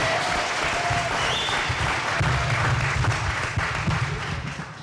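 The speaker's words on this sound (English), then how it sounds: "let's give a round of applause for Michael" Sustained applause from an audience, dense and steady clapping close by that tapers off slightly at the end.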